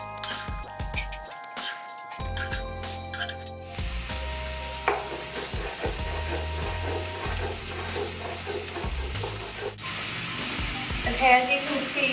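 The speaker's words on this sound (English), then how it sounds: "I want to chop up this onion and saute it." Chopped onion and meat sautéing together in a pan, a steady close sizzle with occasional stirring scrapes and knocks, continuing without pause from start to finish.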